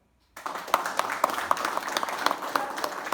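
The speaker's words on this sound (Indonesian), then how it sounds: "Tepuk tangan." Audience applause at a talk, a dense steady wash of clapping from many hands that starts abruptly after a brief silence and holds at moderate level.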